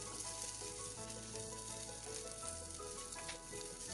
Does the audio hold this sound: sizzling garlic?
yes